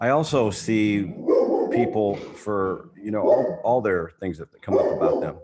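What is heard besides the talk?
chocolate lab dog barking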